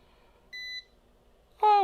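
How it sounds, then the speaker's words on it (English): Short electronic multimeter beep in continuity mode while probing a laptop motherboard under repair, a steady tone lasting about a quarter second in a quiet room, followed by a brief squeaky sweeping sound. "Oh, it beeped for a second."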